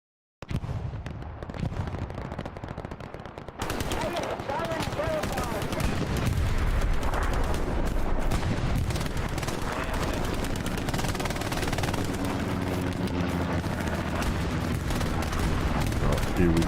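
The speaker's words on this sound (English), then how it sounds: "Here we go, got caught in the crossfire" Sustained gunfire crossfire in the WWII shooter Hell Let Loose, with dense rifle and machine-gun bursts and distant explosions rolling on steadily after a brief quieter opening.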